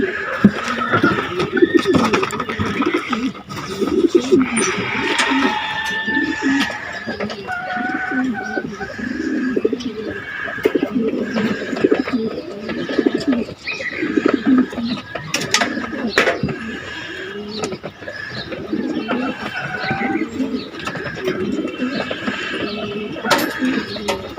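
Pigeons in a loft give repeated soft throaty coos, close and overlapping, with occasional sharper calls and wing or movement sounds. Someone talks over them at times.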